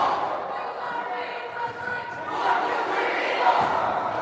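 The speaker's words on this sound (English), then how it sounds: "Eagles sound fired up tonight. Near capacity crowd." A near-capacity crowd at a bantam ice hockey game roars in a hall, a constant reverberant hum of voices rising in energy, with a few thuds from the rink.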